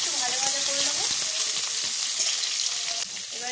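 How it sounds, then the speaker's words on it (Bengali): Poppy seed chutney fries in a pan with a steady, bright sizzle, close and continuous, with faint voice traces in the background. "আমরা দিলে একটু ভাজা ভাজা করে নেবো"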